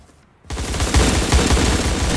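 M4 rifle gunfire in the Surviv.io video game: after a brief quiet moment, a loud, rapid automatic burst of shots fires continuously, close and harsh, with no speech.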